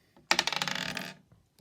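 Dice rolled during a home maths lesson on doubling numbers give a sudden close rattling clatter of quick hard taps that lasts about a second and then settles, followed by a couple of faint knocks, with no talking.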